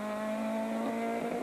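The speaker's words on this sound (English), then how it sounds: "Pat Bonner and Derek Montgomery use every inch of the road in their Class 12 escorts" Class 12 Ford Escort rally cars at the 2003 Donegal Harvest Rally, one engine held at a steady high-pitched drone close by, loud and constant, with no voices.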